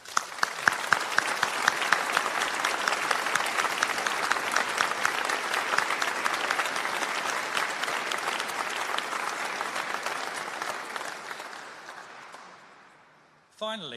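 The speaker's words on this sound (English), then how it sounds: "Please do join me in applauding their success." Applause at a college graduation ceremony, a few sharp claps at the start swelling into steady crowd clapping that gradually thins and fades toward the end, followed by a brief return of sound.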